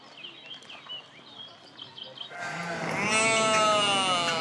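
Ewes with their lambs bleat inside a farm barn, a few faint calls at first, then a loud, long, close bleat rising over the steady barn background.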